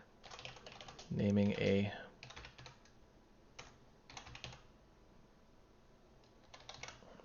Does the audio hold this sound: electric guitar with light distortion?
no